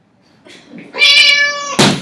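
A cat meows loudly and clearly a couple of times, up close, with a short rustling knock just before the final cry.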